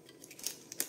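Scissors snip through paper in two quick, crisp cuts close by, short bright clicks less than a second apart in a quiet room.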